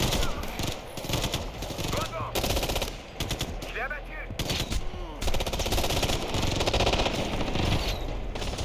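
Rapid automatic gunfire rattles through a Ghost Recon Future Soldier firefight, dense bursts and overlapping shots filling the scene loudly and continuously, with someone talking over the shooting.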